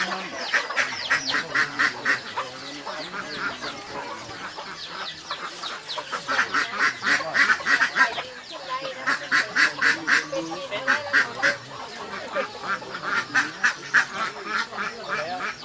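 Ducks quacking in repeated bursts, mixed with chickens, fairly close and lively throughout, with brief pauses between bouts of calls.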